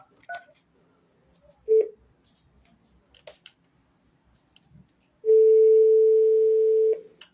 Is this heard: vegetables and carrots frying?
no